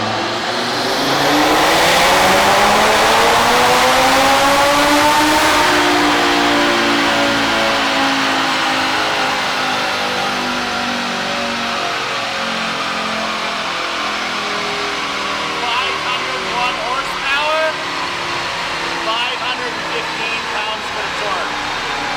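Audi RS3 fitted with a Unitronic 4-inch turbo inlet revs hard on a dyno, climbing loud and steady in a long sweeping pull before settling into a sustained high-rpm drone.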